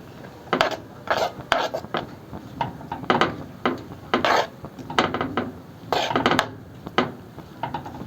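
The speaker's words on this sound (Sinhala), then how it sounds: "අපි මේකට ගාගත්ත පොල් බෑයක පොල් එකතු කරගෙන සීනි ටිකත් එක්කම හොඳටම මිශ්‍ර වෙනකන් හැඳි ගා ගන්න" Grated coconut and sugar being stirred in a pan with a spoon, a repeated scraping and clattering of the spoon against the metal pan in irregular strokes, fairly close.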